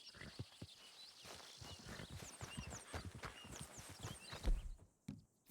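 Horse hooves clip-clopping in a steady walking rhythm in Red Dead Redemption 2, close and continuous over faint ambient birdsong, with a few heavier thumps near the end.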